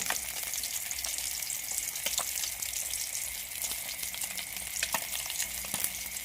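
Oil sizzles and crackles steadily as sun-dried fish fries in a pan until golden and crisp, a dense hiss with small pops, close up, and no one speaking.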